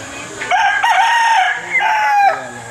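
A Gray Henny gamefowl rooster crows loudly and close by at a gamefowl market in Lipa, Batangas, giving two strained crowing calls in quick succession.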